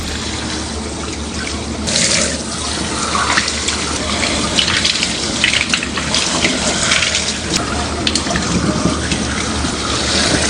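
Water pours steadily over a curly wig's hair to saturate it, a close, continuous splashing rush like a running tap that grows slightly fuller after the first couple of seconds and carries on without talk.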